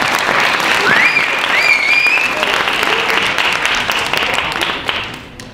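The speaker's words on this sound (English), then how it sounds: "Give yourselves a round of applause." Sustained applause from an audience at a business club awards ceremony at Rutgers University, a dense wash of clapping filling the room for several seconds, with a few faint voices and whistles over it before it begins to taper.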